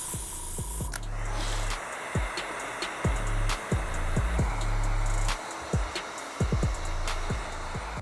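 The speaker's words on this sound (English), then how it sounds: "I'm using the airbrush to lay down the black as opposed to using a paintbrush" An airbrush lays black paint onto the midsole of an Air Jordan 3 Tinker sneaker, coming in short hissing bursts over a humming compressor that cycles on and off, close by and with no voices.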